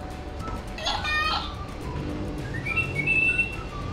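A Little Live Pets toy bird sings short electronic chirps and whistled trills, close by, over a steady background hiss.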